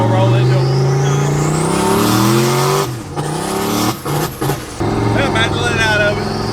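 A turbocharged LS-powered car accelerates hard, engine note rising loudly through the revs with shift breaks and turbo flutter between pulls, close and dominant, with a voice briefly heard.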